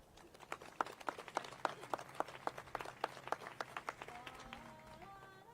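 Audience applause at a Capitol Christmas tree holiday event, following a Sacramento State performance of Jingle Bells: rapid overlapping claps from a crowd, fairly steady and moderately loud, with a few sustained musical tones entering near the end.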